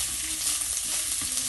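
Beef frying with garlic and onion gives off a dense, close sizzle with light stirring movement, steady and unbroken over a brief moment.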